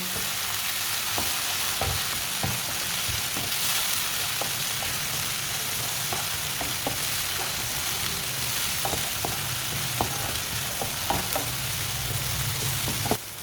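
Chopped tomatoes and finely cut green chillies fry in a pan with a constant, even sizzle, close and moderately loud, and occasional faint taps of a stirring spoon, with no speech.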